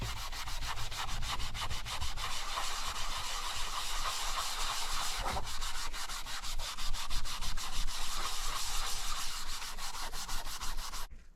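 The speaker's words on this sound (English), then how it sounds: "I'm going to use a 3M pad just because it's pretty quick and easy and it doesn't just scuff up the leather" A 3M abrasive pad rubs briskly over a leather Brooks bike saddle to strip its lacquer finish, making a continuous close, raspy scrubbing with a fast back-and-forth pulse that stops abruptly at the end.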